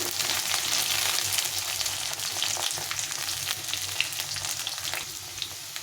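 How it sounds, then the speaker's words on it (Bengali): Taro stems and pumpkin fry in a pan with a strong, steady sizzle and crackle, close and loud, with faint stirring scrapes and no speech. "তো এই সবগুলোকে একটু ভেজে নেব"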